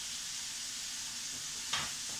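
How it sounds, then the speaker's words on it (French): Food simmers in a pan for a cauliflower and chicken gratin, giving a steady, soft sizzling hiss throughout, with one brief louder stir or bubble near the end. "On les laisse mijoter tranquillement"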